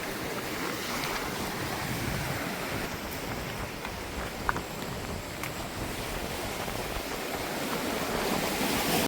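Sea waves wash steadily against a village shoreline, a broad, continuous surf roar mixed with wind noise and no talk over it.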